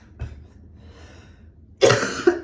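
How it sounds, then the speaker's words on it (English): A single sharp, loud cough bursts out near the end after a quieter breathy moment, close to the listener. "Apparently I'm gonna cough for 39 weeks"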